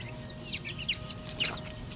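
Several hens and small chicks clucking nearby, short sharp calls repeating every half second or so over a soft background hum.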